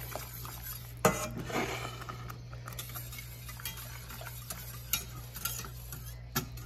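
A utensil scrapes and clinks quietly against a pan while stirring a sauce in an irregular rhythm, with a low hum in the background.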